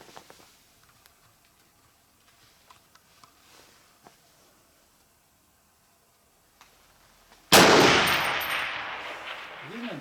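A single loud rifle shot cracks out at an outdoor shooting range, an AR-10, Tikka T3 or AR-15, after several seconds of near-quiet with faint ticks, followed by a long decaying echo.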